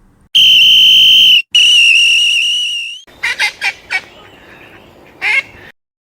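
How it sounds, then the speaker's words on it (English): Two long, shrill blasts on a police whistle, then a run of loud nasal duck quacks in quick bursts. "They made such a noise that Michael came running, waving his arms and blowing his whistle."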